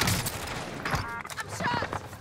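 Bursts of video game gunfire crackle in a short flurry, mixed with a voice speaking over the action.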